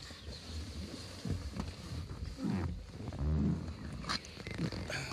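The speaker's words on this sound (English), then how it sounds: "Leather's creaking today." The leather seats of a 2003 Rover 45 2.0 V6 Connoisseur give a few drawn-out, groaning creaks close by, alone over a steady background hiss.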